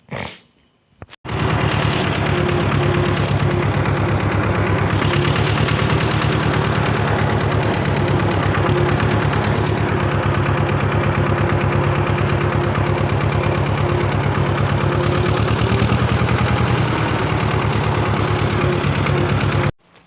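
A vehicle engine runs steadily and loudly throughout on the drive to work, with a constant low hum and rattling vibration from inside the cab, after a brief quiet opening.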